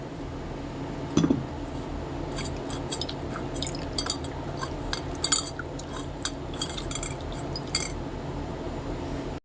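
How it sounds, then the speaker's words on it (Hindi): Pulp for a Peshawar-style raita is strained through a metal sieve, giving a wet, rustling background broken by scattered light clinks and taps of metal, with one sharper knock near the start. "पल्प को हम छन्नी के साथ इसको छान लेते हैं।"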